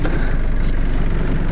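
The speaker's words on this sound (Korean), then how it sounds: "다시 한번 시동 걸도록 할게요" A Hyundai Grace van's engine running steadily right after being started, a loud continuous low rumble with a regular pulsing idle, close by and without speech.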